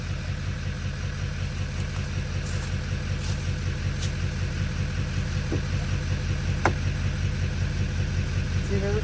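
A truck engine idles to supply power for an off-grid water backup setup, its steady, close-up throb running throughout with a few small clicks on top.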